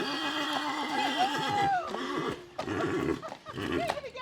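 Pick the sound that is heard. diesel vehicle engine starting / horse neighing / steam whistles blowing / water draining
horse neighing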